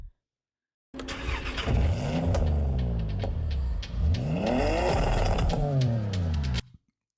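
A car engine in a Forza Horizon 6 trailer revs up and down in two long sweeping pulls, loud and close, with a high whine rising and falling over the rumble.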